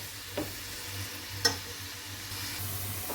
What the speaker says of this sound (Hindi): तो यहाँ पे प्याज जो है वो ऑलमोस्ट फ्राई हो चुका है।